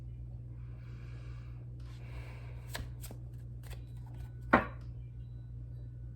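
A tarot card deck being shuffled, soft papery riffles and a few sharp card taps over a steady low hum, quiet and close.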